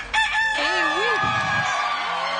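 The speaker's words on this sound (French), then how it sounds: "C'était pas un petit banal cocorico, là." On a French-language game show, a rooster crows a loud, drawn-out cock-a-doodle-doo with wavering rising and falling notes over a bright, busy studio background.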